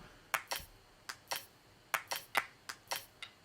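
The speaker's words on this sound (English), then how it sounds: "So it's mostly a combination of claps and sticks." Percussion samples of hand claps and stick hits for a future bass track, about ten crisp, dry hits in a loose rhythm with gaps between them, played back cleanly with nothing else behind.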